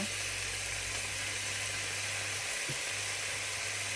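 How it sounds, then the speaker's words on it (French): Squid sautéing in a pan for a Moroccan tajine, a continuous bright sizzle of frying with a faint low hum underneath and no talking. "Donc on les fait bien revenir jusqu'à enlever l'excédent d'eau."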